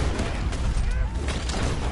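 Rapid gunfire rattles in Red Dead Redemption 2 during a shootout, with dense overlapping shots and low booms forming a loud, continuous barrage while a voice talks over the action.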